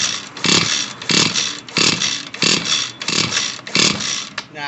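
Recoil starter rope yanked repeatedly on a Shimaha CG260AN Chinese gas trimmer that won't start: six rasping, whirring pulls in a regular rhythm, close and loud, with no engine catching.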